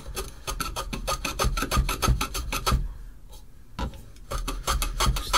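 Rapid rhythmic rasping strokes scrape rust off a very rusty vintage Stanley plane, in close, sharp bursts with a brief pause midway, and no talk.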